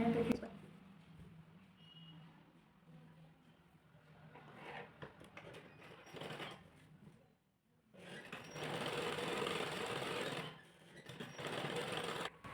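Domestic sewing machine stitching a blouse sleeve, close and moderately loud, running in two longer bursts separated by a brief pause, with quieter handling sounds and faint talk earlier on.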